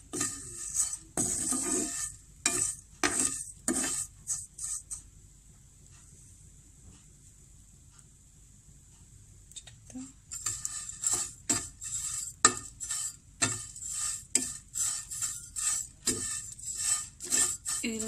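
Vermicelli is stirred and fried over a low flame, giving repeated scraping and clinking utensil strokes against the pan in irregular bursts with a quiet pause midway, close and soft.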